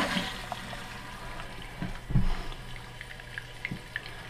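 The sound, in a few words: water flowing into toilet tank after fill valve replacement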